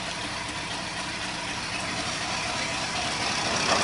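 A 1981 Mercury Marquis engine idling after a cold start at -26°C, a steady rough rumble with broadband noise, close and even throughout, rising slightly toward the end.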